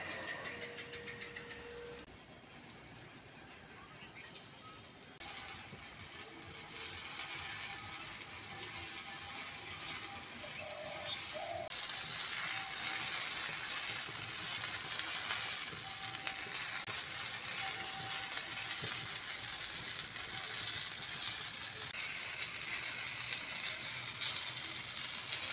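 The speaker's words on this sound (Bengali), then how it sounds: "খুব হালকা আছে ভেজে নিতে হবে এগুলো" Pieces of lote fish frying in a tawa: a soft, steady sizzle that grows louder partway through and stays even to the end, with no voices.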